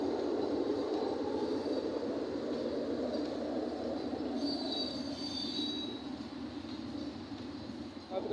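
A train pulls out of Majhgram railway junction in Lalpur, Natore, bound for Dhaka, with a steady, loud rumble of rolling carriages and wheels squealing high against the rails throughout.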